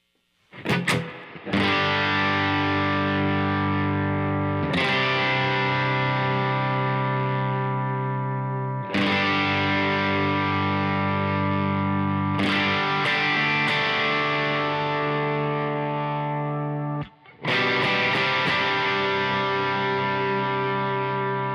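Heavily overdriven electric guitar chords through stacked overdrive pedals, including an RC drive, ring out loud and sustained, struck again every few seconds with a thick, saturated, effects-laden tone.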